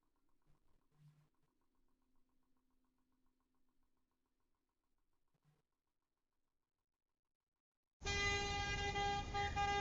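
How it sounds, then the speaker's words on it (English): A car horn sound effect blares in one sustained, loud honk near the end, after several seconds of near silence broken only by a few faint low knocks. "The deafening sound of a car horn shakes me from my dream."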